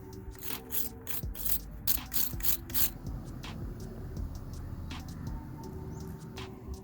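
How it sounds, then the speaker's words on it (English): A wire brush scrubs old thread locker off a brake bolt in quick rasping strokes, a rapid burst of scratchy passes early on, then lighter intermittent scrubbing. "I'm just going to clean it with a wire brush and get it ready for the new stuff"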